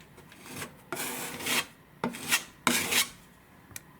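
Drywall compound spread into a hole with a putty knife, a series of close scraping strokes, about five rasping passes of varying length with short pauses.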